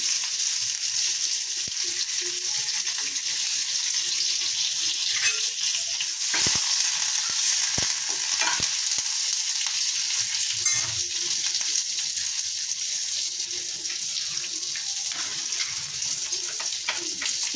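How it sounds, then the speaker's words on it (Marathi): Curry leaves dropped into hot oil for tempering hiss and crackle steadily close by, with a few sharp pops and spits breaking through the sizzle. "कढीपत्ता हा गॅस चालू करून ठेवल्यावर फोडणीमध्ये घालायचा"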